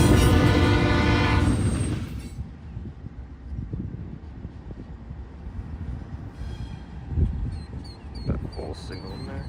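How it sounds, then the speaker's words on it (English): Freight train NS263 led by an old BNSF locomotive rolling through town, opening with a loud horn blast that fades into the rumble and clatter of passing cars, with faint squeals later. "An old BNSF-9 led this NS263 south through town."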